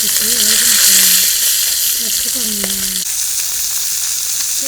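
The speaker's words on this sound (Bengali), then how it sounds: "মাছ ভাজতেছে" Steady, bright sizzling of small fish frying in hot oil fills the clip, close and loud, with a few faint background voices and kitchen sounds underneath.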